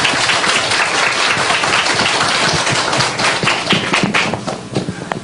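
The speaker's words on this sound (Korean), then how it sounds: "우리 중고등부 찬양팀에게 격려의 박수, 또 하나님 앞에 영광의 박수 함께 드리겠습니다." A church congregation applauds a middle- and high-school youth worship team during a Sunday service, loud, sustained clapping from many people that fills the room and slowly begins to thin out.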